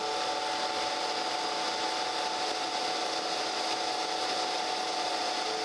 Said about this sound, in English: Let's raise our wheel up and we should be ready to touch off and grind this bottom